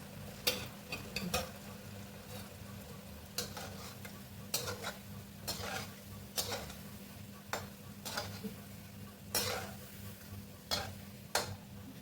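Gulab jamun frying in hot oil over a low flame, the oil hot enough that they darkened quickly; scattered sharp crackles and pops rise above a steady low hum, with no talking.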